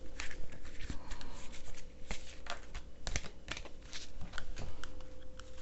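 Dragon Oracle cards being handled and shuffled, giving a close, steady run of soft papery flicks and taps with scattered sharper clicks and no talk over it.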